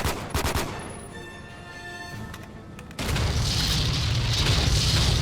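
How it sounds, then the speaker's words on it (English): In the video game 007: Quantum of Solace, a quick burst of loud gunshots, a fading ringing tone, then a heavy booming explosion that swells into a sustained roar of rumbling debris. "Basically just keep shooting at him until there's an explosion."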